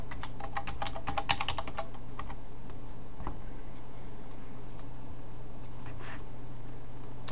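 Rapid clicking keystrokes on a computer keyboard as an app name is typed, a quick cluster of taps at the start, then a few scattered clicks over a low steady hum.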